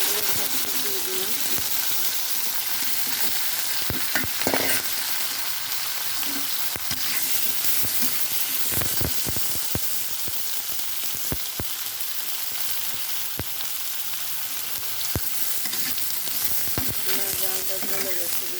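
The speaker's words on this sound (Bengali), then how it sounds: "বেগুনগুলো আমি একটু ভেজে নেবো হালকা লবণ হলুদ দিয়ে" Eggplant pieces fry in hot oil in a pan with light salt and turmeric, giving a continuous loud sizzle and hiss close up, broken by occasional clinks and stirring scrapes.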